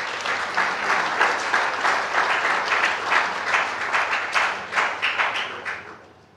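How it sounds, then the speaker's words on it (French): Audience at an entrepreneurship conference applauding, a dense, rhythmic wave of many hands clapping close by that swells and then fades out over several seconds. "Nous acclamons encore une fois."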